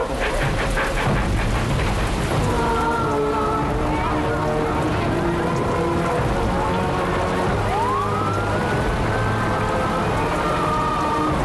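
Steady heavy rain pours at a rainy crime scene, a dense continuous hiss throughout with dramatic film music tones and a rising siren-like sweep over it; no distinct thunder stands out.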